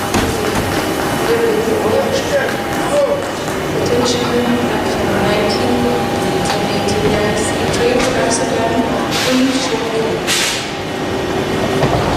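A train rolls past with a continuous rumble and clattering rail noise that holds steady and fairly loud throughout, with occasional sharper metallic knocks on top.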